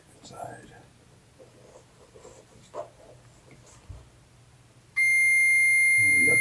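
Multimeter continuity beep during a motorcycle gas tank repair: a single sustained, loud electronic tone starts abruptly and holds to the end, after faint rustling and low murmuring.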